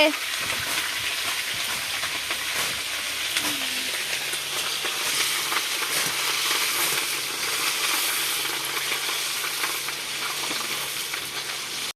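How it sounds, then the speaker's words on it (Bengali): Vegetables frying in a pan for a five-vegetable curry at home, a steady, close, broadband sizzle and crackle running unbroken throughout with faint stirring. "আর এদিকে দেখো আমাদের সবজি ভাজা হচ্ছে"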